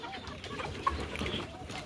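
Golden Misri hen, a pure golden breed kept on a Pakistani poultry farm, gives soft clucks at close range, with one brief sharper note partway through and faint background noise.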